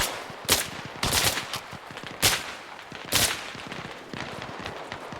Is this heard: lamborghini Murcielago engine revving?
no